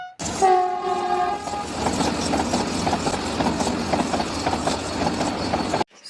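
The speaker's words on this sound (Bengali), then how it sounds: "যেন মনে হলো বন্দে ভারত ট্রেন গেল" A Vande Bharat express train rushes past: a loud horn blast at the start, then a steady roaring rumble with rhythmic wheel clatter and no voices.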